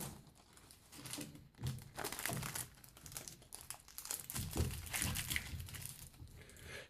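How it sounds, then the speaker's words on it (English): Tape is pulled, torn and pressed down to hold hardwood strips in a vise for coin ring making, giving close, irregular crinkling and ripping bursts. "we'll just put it in the vise like that, and we'll just go ahead and tape it in place."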